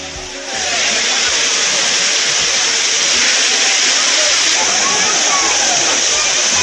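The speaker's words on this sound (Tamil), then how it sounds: "அவர்கள் ஜில்லென்று கொட்டும் அருவி நீரில் குளித்து மகிழ்கின்றனர்." Courtallam waterfall pours heavily as tourists bathe beneath it, a loud, dense, continuous roar of falling water that starts abruptly and holds steady, with faint voices mixed in.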